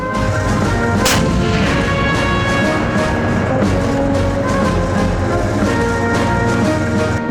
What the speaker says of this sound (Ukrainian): залізний титан вивергає смертельну хвилю вогню і попелу зі 125 мм